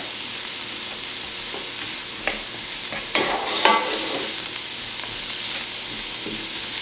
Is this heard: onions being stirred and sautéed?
yes